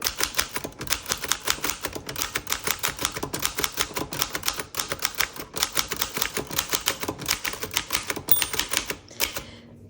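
Rapid, crisp key strikes clatter on a 1930 Remington Portable 3 typewriter, a dense run of close, sharp mechanical clacks with a brief pause near the end, no voices.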